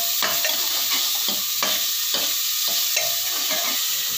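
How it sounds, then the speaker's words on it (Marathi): Chopped onion stir-fried in a pan, with a steady loud sizzle broken by repeated scraping stirs of the spatula at a regular pace. "त्यात चिरलेला कांदा टाकायचा, कांदा पण छान परतून घ्यायचा।"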